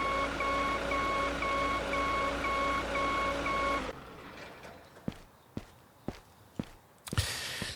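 Slow in-game footsteps in the brewery game Beer Factory, a handful of distinct separate steps after a droning machine hum cuts out, with no one talking.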